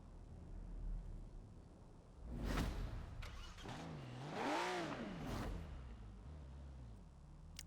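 An Acura in Forza Horizon 4 revs its engine with rising and falling pitch sweeps, building to a loud peak and easing off, with a whoosh of passing air and no talk.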